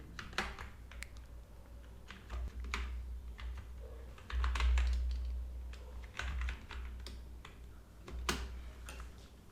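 Someone types on a computer keyboard while entering a MySQL column name, with irregular bursts of close, crisp key clicks over a low hum.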